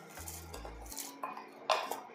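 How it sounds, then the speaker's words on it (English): Rice goes into a pot of boiling water while making rice porridge congee, with quiet clinks and scrapes of a utensil against the pot over a faint background bubbling. "So now we will add the rice"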